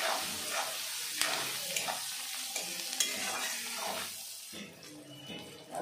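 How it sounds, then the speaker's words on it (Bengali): Sliced onion with a little salt and a pinch of turmeric frying in a hot pan, a close, steady sizzle with scraping stirs and a few sharp clicks of the utensil on the pan. "1 চিমটি হলুদ গুঁড়ো দিয়ে আমি ভালো করে পেঁয়াজটা ভেজে নেব"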